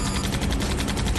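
Rapid bursts of gunfire crackle loud and dense in a dubbed TV drama, a brief stuttering volley like automatic weapons fire with no talk over it.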